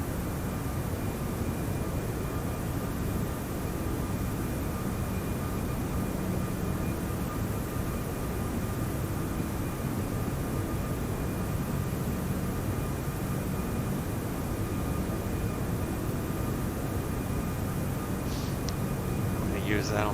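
A simulated Airbus A340-600 airliner climbs out of Las Vegas in the X-Plane 11 flight simulator, giving a steady, unbroken roar of engine and wind noise, loud and constant throughout, with a faint electronic tone or two near the end.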